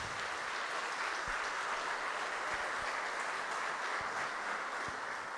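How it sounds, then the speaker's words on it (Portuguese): A conference audience at a regional forum on drug addiction gives teachers a steady round of applause, a dense, even wash of clapping that holds at a constant level throughout. "Eu gostaria que todos que não são professores manifestassem uma salva de palmas aos professores."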